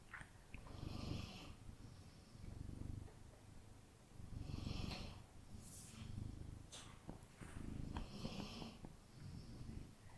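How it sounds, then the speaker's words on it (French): A slow breathing sound effect plays in a hypnosis recording. It is faint, with soft, airy inhales and exhales repeating about three times in an even rhythm. "il y a la respiration de Gaïa qui nous accompagne"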